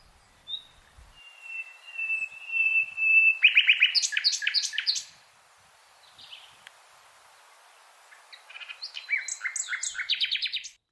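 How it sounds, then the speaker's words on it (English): A nightingale sings alone in quiet surroundings, opening with a long pure whistled note, then bursts of rapid repeated chirps, a short pause, and another fast rattling phrase. "we'll play out with the beautiful sound of the nightingale."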